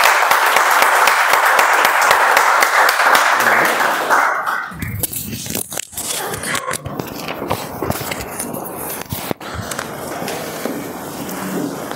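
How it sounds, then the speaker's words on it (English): Audience applause at a Toastmasters meeting: dense, steady clapping for about five seconds, then fading into scattered claps, room noise and shuffling. "Let's give him a round of applause and welcome Toastmaster."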